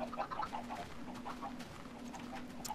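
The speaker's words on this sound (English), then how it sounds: "There are a lot of chickens." Chickens cluck in short, repeated bursts over a steady low hum in Minecraft, with several birds calling close together.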